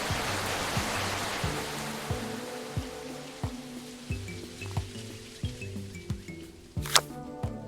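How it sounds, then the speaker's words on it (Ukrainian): Rain falling in the Tukoni video game while hunting mushrooms, a steady broadband hiss under game music with regular soft percussive beats and a brief bright sparkle near the end. "Так, пішов дощик."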